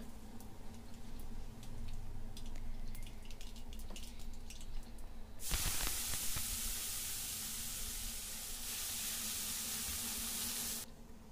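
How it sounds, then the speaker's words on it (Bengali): Nigella seeds are tempered in hot oil, then red spinach is added and fried, giving a steady broadband sizzle that jumps sharply louder when the greens go in and stays loud, with no talk. "তারপর ওই তেলেই আমি কালো জিরা ফোড়ন দিয়ে লাল শাকগুলো সব দিয়ে দেব।"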